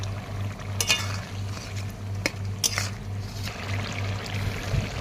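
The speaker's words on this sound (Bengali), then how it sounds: "দেখো, শাকটা রান্না করছি মাছ দিয়ে।" Greens cooking with fish in a pan, with faint sizzling under a few sharp clinks of a utensil against the pan and soft stirring scrapes.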